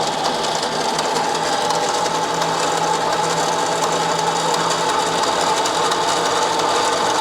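A mini lathe cuts a stainless steel bung for an XLCH chopper, giving a steady, dense machining whir with a faint sustained tone, running loud and unbroken throughout with no talk.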